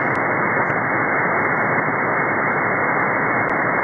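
An HF ionosonde signal at 11,000 kHz comes through an SDR receiver as a loud, unbroken roar of band-limited hiss, steady for several seconds with a couple of faint clicks.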